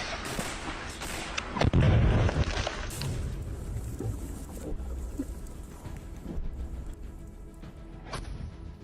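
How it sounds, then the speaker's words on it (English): Artillery shelling pounds trenches near Bakhmut in the Ukraine war, with a loud close blast near two seconds followed by rumbling booms and scattered gunfire-like cracks through the rest of the stretch, no voices. "On the video, you can see under what kind of bombing Ukrainian soldiers have to sit in the trenches."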